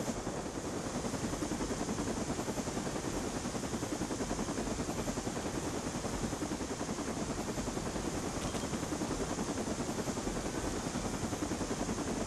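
Helicopter rotor in the video game Marvel's Midnight Suns, a steady, dense chopping roar that runs loud and unbroken throughout with no voices over it.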